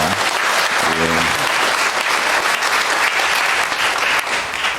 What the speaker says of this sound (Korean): 다시 한번 박수로 격려해 줍시다.